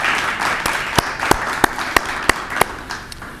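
An audience at an award nominations announcement applauds the nominees. A steady wash of clapping is punctuated by several sharp, loud claps close by at a regular rhythm.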